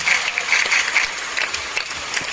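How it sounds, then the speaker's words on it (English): An audience at a sea lion show in Singapore claps loudly and continuously, a dense rattling burst of many hands that holds steady, then thins out toward the end. "Now you all can try to clap as much as you want to distract him"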